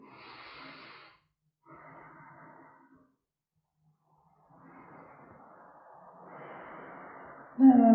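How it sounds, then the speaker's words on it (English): Slow breaths in a yoga class, soft airy inhales and exhales in separate phrases with silent gaps between them, close and quiet, ending on a sudden louder burst. "Take a couple more breaths here"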